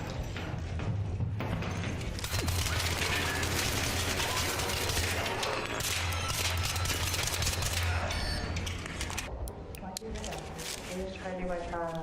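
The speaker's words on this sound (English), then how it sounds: "You were shooting at me" Rapid bursts of video game gunfire crackle through a dense, busy mix of shots and clatter, with voices talking over the action throughout.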